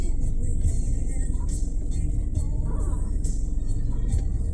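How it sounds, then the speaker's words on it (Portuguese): A car pulling out of a parking space: a low, steady engine rumble idles and rolls on throughout, with faint clicks and taps scattered over it. "esse carro tá saindo"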